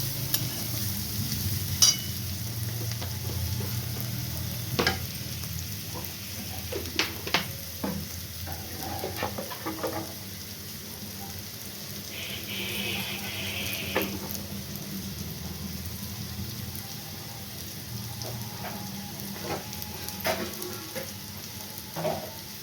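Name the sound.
cauliflower stalks frying in a pan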